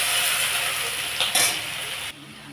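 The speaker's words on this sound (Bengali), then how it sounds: "এইবার আমি এই কড়াইয়ের মধ্যে এই তেজপাতাটা ফোড়ন দিয়ে দিলাম, আর এই কুচানো পেঁয়াজ যেটা রেখেছিলাম সেটাও ফোড়ন দিয়ে দিলাম" Bay leaf and chopped onion fry in hot oil in a wok, giving a steady close sizzle with a few scraping stirs before the hiss suddenly drops off near the end.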